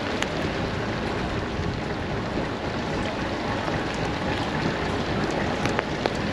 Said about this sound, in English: There's some wet Welsh rain.